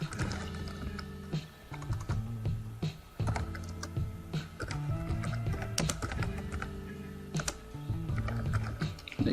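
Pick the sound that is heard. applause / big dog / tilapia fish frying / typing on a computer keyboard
typing on a computer keyboard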